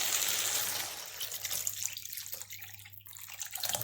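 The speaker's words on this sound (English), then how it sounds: "fill it up with water and add that to it" Water from the emptied tomato tins pours into a pan of aubergine, courgette and chickpea curry, a loud rushing splash that thins into gurgles and trickles, heard alone and close.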